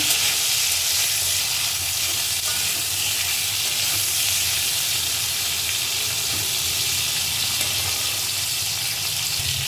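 Chopped mustard stalks frying in a pan with hot oil, a loud, steady, close sizzle with occasional stirring, continuous for the whole stretch with no voices.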